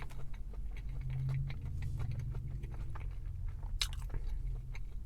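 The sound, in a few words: biting and chewing Arby's hushpuppy fish wrap, crunch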